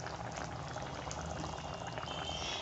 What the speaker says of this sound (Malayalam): ഇത് നന്നായി തിളക്കുന്നുണ്ട്